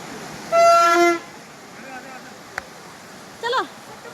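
A loud train horn blast sounds briefly, followed by a short click and then a second, shorter honk, against a steady rushing background of a moving train.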